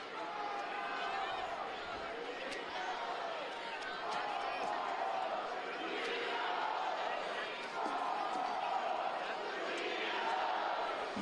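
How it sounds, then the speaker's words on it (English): Stadium crowd at a New Mexico United vs Union Omaha soccer match, a steady roar of voices and cheering that swells in waves under close commentary talk. "you can hear the crowd in the background there"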